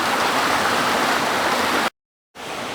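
Otter Creek running low in July, a steady full-band wash of flowing water close by, continuous with a brief cut to silence before resuming.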